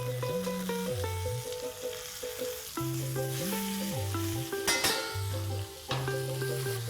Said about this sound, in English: Allow this to pan sear on the second side as well for 2 minutes.